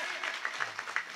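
Scattered hand clapping from an audience at a Marathi kirtan gathering led by Rohidas Maharaj Maske in Chohotta Bazar, a handful of uneven claps over a steady background murmur.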